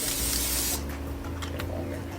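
Aerosol cooking spray hisses from a can onto bread for dark chocolate French toast, a loud steady burst lasting under a second before fading into quieter kitchen handling noises.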